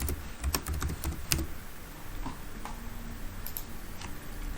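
Quick keyboard typing of a search term, a cluster of close crisp key clicks at first that thins to sparse taps, with no talk.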